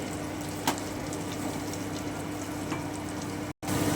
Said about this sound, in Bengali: খুব হালকা করে ভাজবো পনির